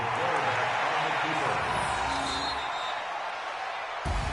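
Steady stadium crowd roar from a Madden football video game broadcast, a dense continuous wash of distant voices that holds loud throughout, with a brief dip and surge near the end.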